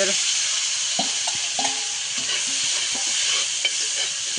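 Onions sizzle steadily in a hot pan while a utensil stirs and scrapes through them in irregular bursts, close and fairly loud, with no talking.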